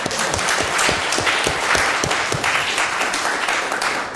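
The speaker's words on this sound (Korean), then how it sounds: "우리 김진수 선생님 한 박수 한번 해주세요." A congregation applauds Kim Jin-su, a teacher: steady, dense clapping from many hands, loud and even throughout, with no talking over it.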